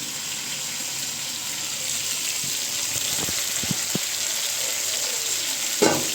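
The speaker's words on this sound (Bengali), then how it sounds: "এখানে এক পিস চিকেন ভেজে নিচ্ছি রান্না করবো বলে" A piece of chicken frying in a pan, a steady close sizzle and crackle running throughout with a few soft clinks and scrapes, and no talking.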